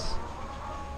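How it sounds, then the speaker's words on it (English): Chickens cluck in a farm chicken pen as a thunderstorm approaches, a few close clucks over steady background noise. "We're in chicken pen. Chickens are doing fine."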